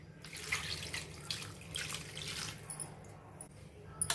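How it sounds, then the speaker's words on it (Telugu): Water pours onto fish curry ingredients with mango, onion, salt, turmeric, chili powder and oil in a pot, a soft, quiet splashing trickle in several bursts. "ఇవన్నీ ఇలా వేసేసుకుని వాటర్ వేసుకోవటం."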